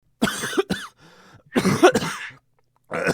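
A man coughs in harsh bursts, two clusters of coughs close by with a faint throaty gap between them, then another cough starting at the end.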